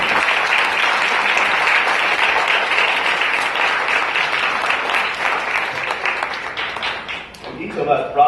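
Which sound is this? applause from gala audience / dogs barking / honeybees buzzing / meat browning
applause from gala audience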